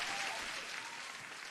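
An applause sound effect plays: a dense, steady burst of crowd clapping, loud and close, lasting about a second and a half with no speech over it.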